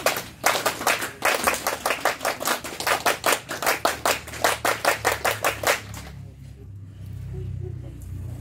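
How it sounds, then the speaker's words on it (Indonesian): Scouts at an elementary school Pramuka troop installation ceremony perform the Pramuka clap twice, a long run of sharp, evenly timed group claps that stops abruptly and leaves quiet room hiss. "Dua kali tepuk pramuka"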